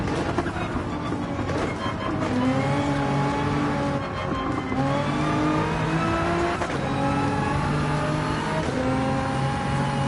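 A race car in Gran Turismo 7 revs hard through its gears, the engine note climbing repeatedly toward the limit with brief dips at each shift, loud and continuous throughout.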